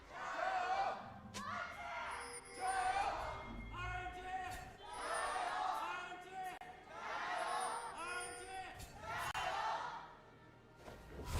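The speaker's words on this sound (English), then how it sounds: "Got a lively crowd for the first series of the night here as well." Lively crowd at an LPL esports match in Shanghai, cheering and roaring in swells throughout, with commentators talking over it.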